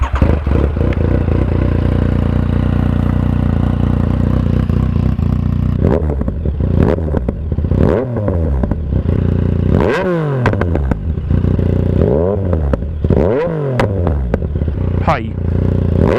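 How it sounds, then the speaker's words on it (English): A motorcycle with a Black Widow exhaust and its baffle removed idles loudly and steadily, then is blipped through several sharp revs that rise and fall in quick succession. "I'll do Baffle out with rev up and acceleration."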